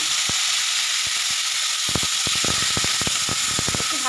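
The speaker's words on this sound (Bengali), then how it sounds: "আলুটা আমি ভেজে নেব।" Salted, turmeric-coated potatoes sizzle steadily in hot oil in a home kitchen, a loud continuous hiss broken by scattered sharp clicks and taps of a utensil against the pan.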